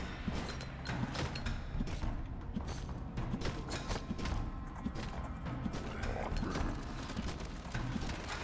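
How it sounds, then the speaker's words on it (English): Horse hooves clip-clop in the video game Halls of Torment, a fairly close, rhythmic run of knocks with creaks and clatter mixed in, no talk. "Didn't kill it before the horse came."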